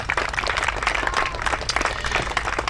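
A crowd at an outdoor ice arena groundbreaking ceremony gives a round of applause, dense steady clapping with occasional cheers throughout.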